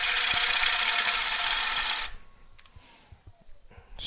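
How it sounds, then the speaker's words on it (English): A turning tool scrapes loudly against a spalted wooden bowl spinning on a wood lathe near the bottom of the cut, then the cutting stops abruptly, leaving a quieter winding-down hum with light knocks. "Stop the lathe and just drop the tool rest a little bit."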